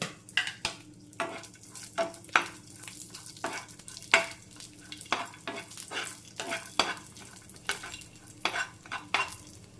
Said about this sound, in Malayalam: ഇനി ഇതിലേക്ക് നമുക്ക് റേസിൻസ് ഇട്ട് കൊടുക്കാം.